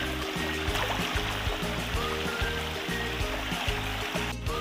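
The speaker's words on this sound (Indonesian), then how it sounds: "Sekarang kita sudah di sungai" Steady rushing of river water flows continuously, with a rhythmic low mechanical thumping underneath and no voices.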